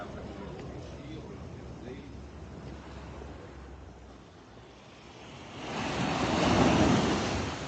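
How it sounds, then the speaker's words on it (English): Ocean waves wash onto a beach in Barbados in a steady broadband roar that swells louder toward the end, with wind noise and a faint voice underneath. "Imagine waking up to that sound of the waves in the morning."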